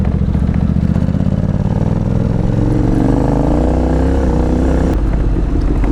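Honda NC750X motorcycle rides along a road, its engine a steady, loud, close drone with continuous wind rush and a slight shift in pitch near the end.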